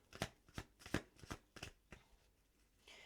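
Tarot cards being shuffled close up: a series of sharp riffling bursts, about six in quick succession, then a softer rustle, quiet and with no talk over it.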